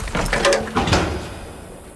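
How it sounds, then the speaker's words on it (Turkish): A door shuts in a Turkish comedy film set in Iraq, a pair of quick knocks and thuds followed by a fading rumble, fairly loud and close. "kapıyı kapat!"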